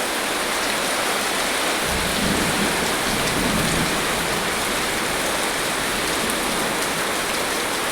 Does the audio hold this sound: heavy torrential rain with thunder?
yes